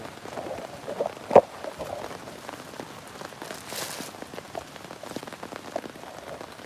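Steady rain falls outdoors, pattering on lights and nearby surfaces in a dense, soft hiss with one sharp louder drip or knock, no talking.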